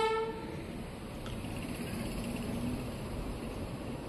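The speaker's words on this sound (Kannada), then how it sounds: "ಈಗ ನಮ್ಮ ರೈಲು ಬರ್ತಿದೆ ಪ್ಲ್ಯಾಟ್ಫಾರ್ಮ್ ನಂಬರ್ 3ಕ್ಕೆ, ಕಲಬುರಗಿ ಜಂಕ್ಷನ್ಗೆ" An express train running from Hyderabad to Vijayapura pulls into platform 3 at Kalaburagi Junction. A brief horn sounds at the start, then a steady rumble of wheels and engine holds throughout.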